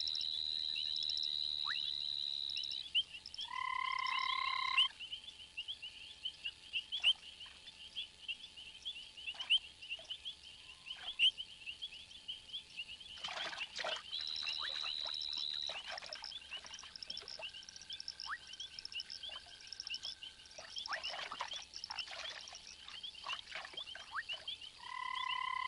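Frog croaking at a pond, repeated tonal calls in short bursts and sustained notes, moderately near, with quiet ambient background and no talk.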